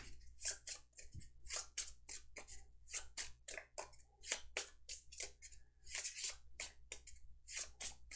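A deck of board game cards is shuffled by hand, a series of crisp riffling and snapping bursts in quick irregular rhythm, close and distinct with no talk.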